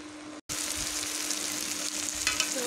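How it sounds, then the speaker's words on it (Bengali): Bitter gourd, potato, onion, green chilli and garlic fry together in a wok with a loud, dense, continuous sizzle that runs close and steady after a brief silent break at the start. "করলা আলুর সাথে পেঁয়াজ, কাঁচামরিচ, রসুন একসাথে দিয়ে দিলে একসাথে ভাজা হয়ে যায়"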